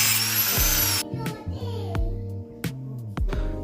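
A small homemade drill motor whirs and revs unevenly, dropping and surging in pitch as it shreds paper, with bursts of harsh high noise.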